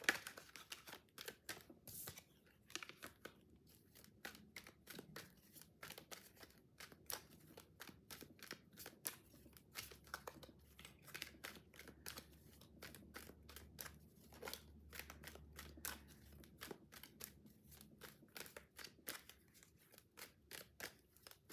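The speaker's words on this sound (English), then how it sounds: "A nice, good shuffle here." Tarot cards being shuffled by hand, a steady run of quick, crisp riffling snaps and papery clicks that continues close and fairly quiet throughout, with no talking.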